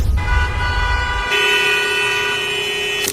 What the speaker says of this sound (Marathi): शहरात दिवसाची सुरुवात गाड्यांच्या हॉर्नपासून होते